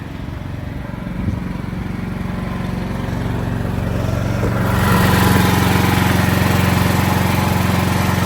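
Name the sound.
standby generator running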